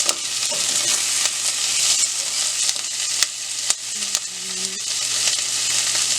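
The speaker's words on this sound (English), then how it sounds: "I'm going to fry it a little bit. Then I'm going to put my cashews" Cashews frying and sizzling in an oiled pan with onion, with steady close stirring and occasional scrapes of a utensil across the pan.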